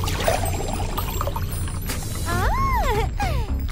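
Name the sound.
glitter and water poured into an empty jar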